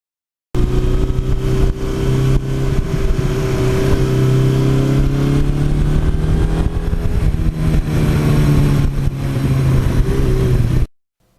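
A 1982 Suzuki GS1100E motorcycle riding at steady speed, its engine loud and continuous with a slowly rising pitch as it pulls along the road.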